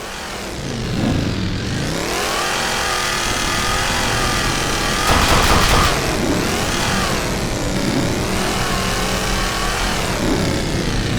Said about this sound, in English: This is the smaller vehicle, which actually has a very high horsepower engine in it as well, so it's a lot faster.